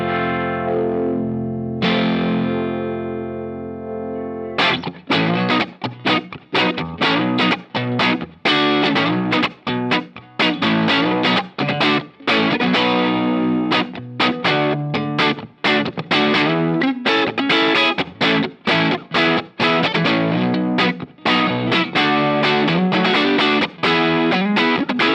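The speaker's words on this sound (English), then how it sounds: "this is a great overdrive" Electric guitar through a Catalinbread Tribute overdrive pedal, low gain with boosted low mids: a sustained chord rings out, then a loud, close, chunky rhythm of tightly palm-muted chugs and chords plays continuously.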